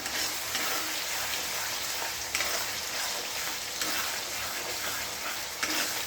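Potatoes and meat frying in oil in a pan, a steady dense sizzle with occasional stirring scrapes, close and continuous with no voices.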